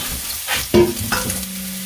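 Onions frying in a pan for Salisbury steak sizzle softly while a utensil stirs them in a couple of quick scrapes, brief and close.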